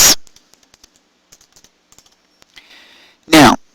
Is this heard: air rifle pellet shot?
no